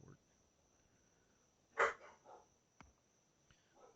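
A pet dog barks indoors, one faint single woof from some distance away, followed by a few softer sounds over a quiet background with a steady high-pitched hum.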